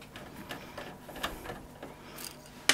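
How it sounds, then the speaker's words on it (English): Screws being undone on a Pentium III computer's drive housing: faint, close mechanical ticking and creaking that ends in one sharp click. "We'll just undo these two screws here"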